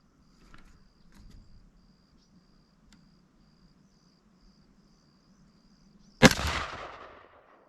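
A single sharp rifle shot while sighting in a scope, loud and sudden after a long quiet stretch of crickets chirping outdoors, followed by a fading echo.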